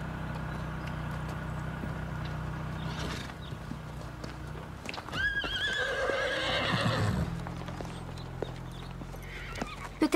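Cartoon horses at a riding club clop along at a trot, then one gives a bright, rising whinny in the middle; hoofbeats and neighs come through clearly against faint background noise, with no talk.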